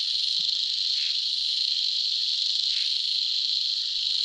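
A loud, dense chorus of frogs calling at night, a steady unbroken trill that fills the whole stretch with no pauses and no talk.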